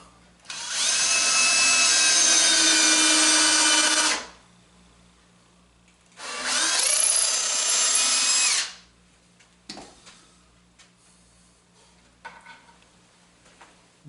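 A power drill bores out a hole while building an Adirondack high chair, with two sustained loud whining bursts of about three and a half and two and a half seconds separated by a pause, followed by a few faint clunks.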